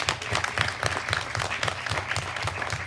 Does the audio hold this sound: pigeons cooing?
no